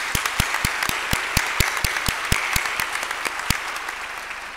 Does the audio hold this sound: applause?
yes